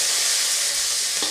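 Crushed small shallots sautéing with popped mustard seeds in a pan for rasam, giving a loud continuous hiss of frying, close up and steady with one brief stir near the end.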